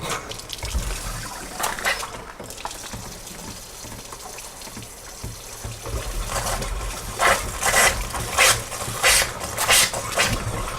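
Water gushes from a tap carrying methane gas, a continuous rushing splash with bursts of sputtering and surging, loud and close with no talk.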